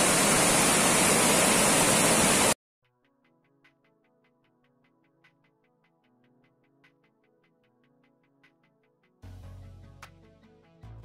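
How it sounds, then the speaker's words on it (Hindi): Water plunging down into a gorge at Fish Point in Mainpat, heard as a loud, steady roar for the first couple of seconds before soft chiming music takes over, with the roar returning briefly at the end. "इधर से भी पानी आ रहा है, मतलब तीनों चारों तरफ से इधर पानी नीचे खाई में जा रहा है"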